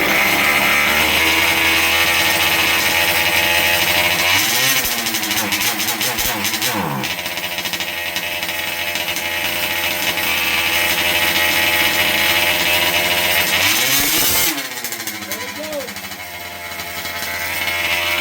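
A Dynamite DTT-7S RC truck nitro engine, richened on its fuel mixture, runs loud and close with a steady buzzing drone. The revs dip and rise twice before it keeps idling.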